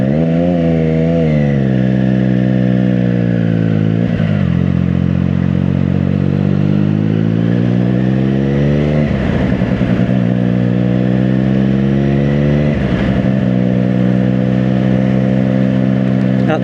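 A Triumph Daytona 660 motorcycle runs for a long stretch, with a steady, loud engine drone. Its pitch rises and falls through several revs, sharper blips come near 4, 9 and 13 seconds, and no voices are heard.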